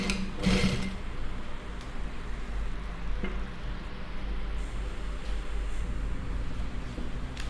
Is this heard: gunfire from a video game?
no